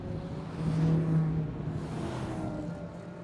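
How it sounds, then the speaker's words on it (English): Turbocharged Group C race cars on the track at a GRIDLIFE South Carolina event, a steady, fairly loud engine roar that swells around the first second and then holds. No one speaks. "Big turbo sounds behind us here."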